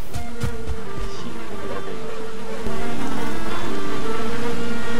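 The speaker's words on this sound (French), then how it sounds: "abeille." A bee in the Valheim video game buzzing steadily and loudly, a continuous droning hum over a dense in-game background.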